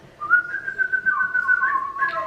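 A person whistles a sustained, slightly wavering bird-like note that slides upward at the end, imitating a bird call; clear and close, with no talk over it.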